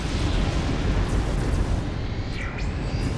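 A nova cannon blast in Battlefleet Gothic Armada 2 roars as a loud, sustained, rumbling explosion lasting several seconds, with a faint whistling sweep near the end and no talk.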